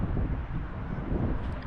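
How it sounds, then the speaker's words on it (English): Strong wind buffets the microphone on an open rooftop terrace in Warsaw, a continuous low, rumbling roar. "So windy, guys, because it's open"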